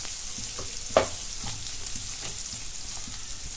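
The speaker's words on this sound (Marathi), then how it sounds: "आता कांदा टाकून घेते" Onion frying in hot oil with cumin in a kadhai, a steady close sizzle broken by occasional scraping stirs and one sharper clack, no voices.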